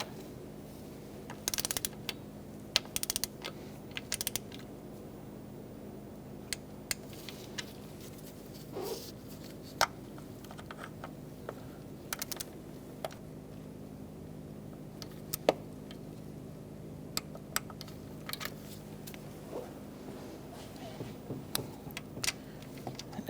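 A ratchet tightening the valve cover bolts on a 2002-2006 Toyota Camry gives off scattered, faint mechanical clicks and short bursts at an uneven pace against a quiet, low hum.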